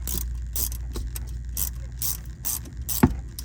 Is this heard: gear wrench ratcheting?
yes